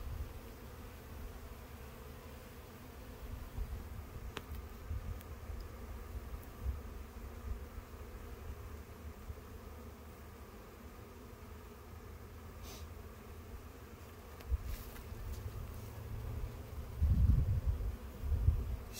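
Honey bees buzz steadily at an open hive in spring while frames are lifted, a dense low hum that runs throughout with a few louder swells and light handling bumps near the end.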